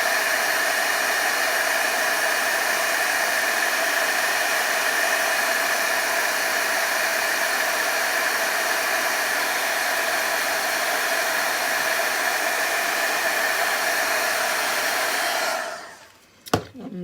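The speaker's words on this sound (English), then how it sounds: "use my heat tool." An embossing heat tool blows hot air in a steady, loud, close whoosh for about fifteen seconds, then cuts off abruptly with a brief clunk.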